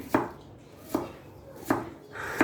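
A knife chops vegetables for okroshka on a board, four sharp, evenly spaced thuds about one per second, close and fairly quiet, with no talk.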